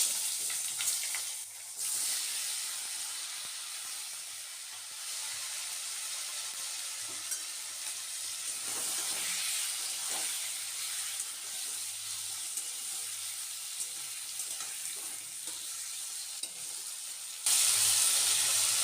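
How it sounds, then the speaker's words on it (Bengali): New potatoes dropped into hot oil already tempered with dried red chili, bay leaf and black cumin, after fish and eggplant were fried in it, sizzle and crackle steadily and loudly throughout, close by with no talking. "ওই তেলে শুকনো লঙ্কা তেজপাতা কালো জিরে ফোড়ন দেবো যে এখন আমি আলুগুলোকে দিই"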